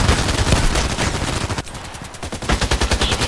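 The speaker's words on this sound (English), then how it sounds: "I'm shooting, I'm making a break, and I'm shooting again" Contract Wars gunfire fired in short bursts, loud and close, rapid shots in a rhythmic stream that pauses briefly midway before resuming.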